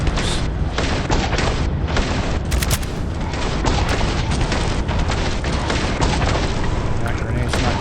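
A grenade explosion in the video game Starfield, a loud booming blast that rolls into dense, continuous rumbling and crackling gunfire-like bursts, filling the whole stretch without pause.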